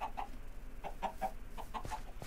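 Chickens in the video game Minecraft cluck in a series of short, regular blips, around ten in quick succession, at moderate loudness with no talk.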